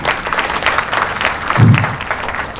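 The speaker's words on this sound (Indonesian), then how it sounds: "Tepuk tangan." Audience applause during a product presentation for Milagros water in Kendal, Indonesia: a steady wash of many hands clapping together for almost three seconds at an even, fairly loud level.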